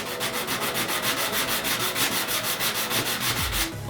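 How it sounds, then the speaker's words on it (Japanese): Sandpaper wrapped in a homemade holder is rubbed back and forth over a surface in fast, even strokes, a loud, close, rhythmic rasp that ends in a brief final scrape. "これを巻き込んで、はい、これで削ってずれなければいいんですけどね。"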